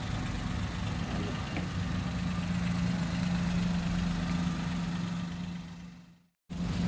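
A Suzuki Jimny engine idles steadily at a dealer's lot, a constant low hum with a faint knock that holds even and unbroken before briefly cutting out near the end.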